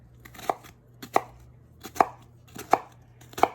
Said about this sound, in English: just roughly chop